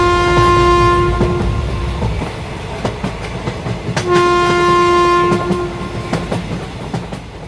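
Cartoon train at a railway station, a loud, close two-tone horn sounding twice over rumbling wheels and rhythmic clattering of the cars along the track.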